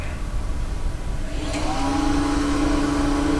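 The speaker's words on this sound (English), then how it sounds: "That's the max speed for this lathe." Harvey T-40 wood lathe on the high-speed belt range, spinning up to its top speed of 4,286 RPM; a loud, steady motor whine climbs in pitch and then holds, with no talk.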